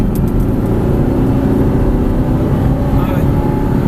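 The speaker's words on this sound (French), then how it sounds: "Et là, on réaccélère" A vehicle accelerates out of a fast curve, its engine droning loudly and steadily as it picks up speed.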